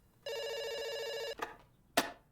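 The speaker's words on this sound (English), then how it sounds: "It's ringing. Don't worry." A single long electronic telephone ring in a video game, steady and close, cut off and followed by a couple of sharp clicks.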